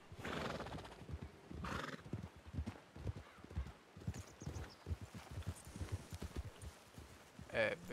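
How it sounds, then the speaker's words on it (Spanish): Horses whinny and their hooves clip-clop at a ranch, a loud neigh at the start and then a busy run of hoofbeats, with people talking over them. "Fue porque escuchamos caballos."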